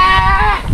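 A goat near a mountain bike trail to a view deck gives one short, loud, nasal bleat with a wavering pitch, heard up close and alone.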